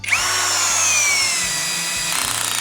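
A NANWEI 16.8V cordless drill driver, set to clutch position five, drives a black screw into wood: a steady, close motor whine with the screw grinding in, ending in rapid clutch ratcheting as the head stops short of sinking.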